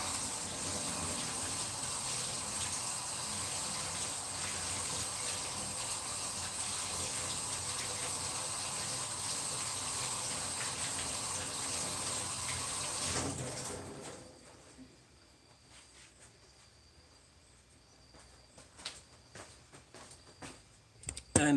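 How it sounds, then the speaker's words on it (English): A tap runs in a steady loud gush while hands are washed beneath it, then shuts off halfway through, leaving quiet drips and faint handling noises. "Wash my hands."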